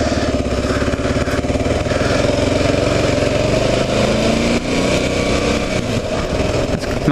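An older Kawasaki KLR motorcycle engine running steadily nearby, a loud, continuous single-cylinder thrum without pause or speech.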